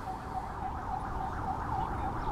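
Distant fire department sirens wailing in a steady repeating rise and fall during a grass fire at Fish Creek in Calgary, faint over low outdoor rumble.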